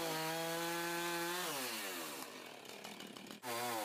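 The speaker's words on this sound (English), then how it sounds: "Chainsaw." A chainsaw revs with a steady high whine, then bogs down into a rough grinding buzz as it cuts a log in two, briefly cutting out before revving again.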